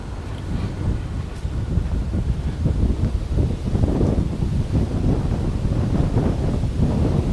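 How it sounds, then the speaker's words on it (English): Gusty wind buffets the microphone in continuous low rumbling bursts, loud and close throughout. "A little windy here today."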